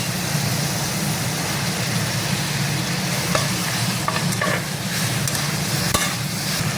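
Onions going into garlic-ginger paste for chicken chilli fried rice, stirred in a hot pan: a steady close sizzle with scraping stir sounds throughout, no talk.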